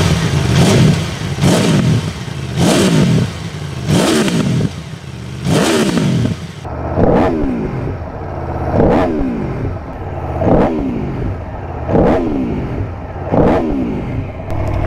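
A car engine in first gear is revved repeatedly past 5000 rpm with the exhaust valve opening, producing about ten loud, rhythmic rising roars, each falling away between blips, the later ones sharper and more rasping.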